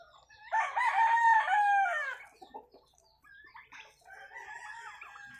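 Rhode Island Red chickens and turkeys call close by: a loud, drawn-out crow-like call is followed by softer clucks and chatter from the flock, with no talk.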